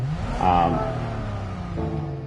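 A supercharged factory engine on a Crown in Gran Turismo 7 revs up and sustains a steady, harmonic mechanical drone, swelling briefly then easing before picking up again.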